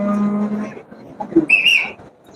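A cow lets out a single loud, drawn-out moo up close at a cattle market in Melapalayam, followed by a short high whistle-like sound.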